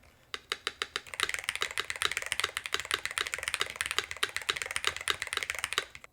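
Keys clatter in quick, even bursts on a DrunkDeer A75 Ultra keyboard fitted with an ABS spacebar, a close, crisp run of clicks that starts sparse and settles into a dense steady rhythm.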